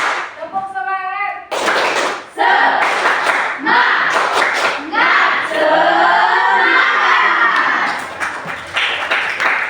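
Children doing a rhythmic spirit clap in a classroom, loud bursts of group clapping in quick patterns with chanting voices mixed in.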